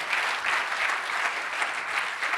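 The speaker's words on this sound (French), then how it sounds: "on peut tous vous applaudir" A hall audience at a finance awards ceremony applauds loudly and evenly, a thick wash of clapping sustained throughout with no voices on top.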